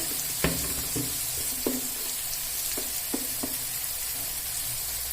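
Spices — chili, coriander and turmeric powder — frying in a pan for jackfruit kofta curry, with a steady sizzle broken by a handful of sharp spoon scrapes and clinks, close and alone.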